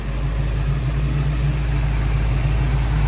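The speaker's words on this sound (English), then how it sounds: "So the car's under load now." A car engine runs under load with the air-conditioning compressor engaged, a loud, steady low hum and drone heard up close, with no change in pitch throughout.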